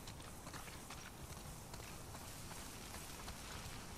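Steady hoofbeats of a galloping horse in the video game The Last of Us Part II, a continuous rapid clip-clop over a dense, noisy background, with no talking.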